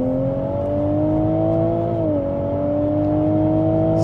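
Tuned 400bhp Toyota Supra engine holding a loud, steady drone near the listener, its pitch rising slowly and then dropping once before settling at a constant note.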